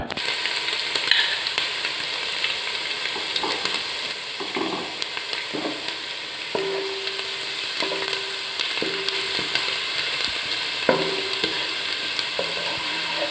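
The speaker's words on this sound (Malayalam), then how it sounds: "അപ്പം നമുക്ക് ഗാർലിക്ക് നമ്മളുടെ പാനിലേക്ക് ഇട്ടൊന്ന് വഴറ്റിയെടുക്കാം" Garlic sautés in a pan, a constant bright sizzle heard up close, punctuated by occasional clinks and scrapes of a spatula against the metal.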